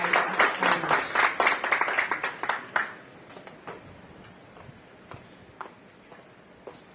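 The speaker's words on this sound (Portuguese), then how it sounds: "un fuerte aplauso nos ha recibido ese representante de Digicel" Audience applause at a business hall of fame awards event, a dense burst of clapping for about three seconds that quickly thins to a few scattered claps and faint room noise.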